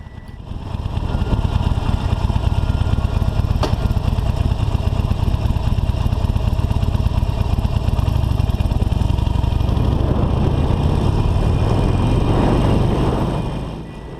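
A Harley-Davidson Forty-Eight motorcycle engine rumbles steadily and loudly while riding through New York City streets, a continuous low drone that fades slightly at the end, with no voices.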